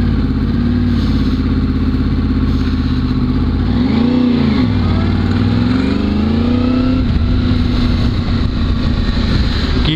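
A Japan-spec Yamaha R1 1000 cc superbike with K-Factory parts revs loud and close in a steady drone, dipping and climbing sharply in pitch partway through as it shifts gear, then settling back into a hard, even roar.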